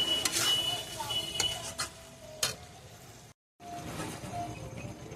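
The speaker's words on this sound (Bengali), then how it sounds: "লবণ দিয়ে আলুগুলো ভালোভাবে কষিয়ে নিচ্ছি মশলার সাথে।" Fried potatoes with spices and salt are stirred and sautéed in a pan, with intermittent scraping and ticking utensil strokes over a soft sizzle, close by, with a brief silent gap.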